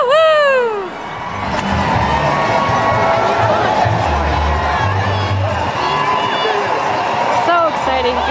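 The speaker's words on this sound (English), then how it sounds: "You can hear all the people shouting and cheering." Spectators shout, whoop and cheer along the course of a running race, a loud continuous crowd din with a high yelling voice at the start.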